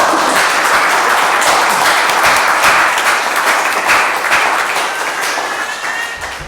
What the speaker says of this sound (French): Je propose qu'on puisse l'applaudir.